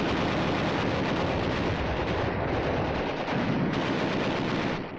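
Dense battlefield gunfire at Tarawa, rifles and machine guns crackling in a loud, continuous barrage with heavy low rumbling blasts mixed in, sustained throughout without pause.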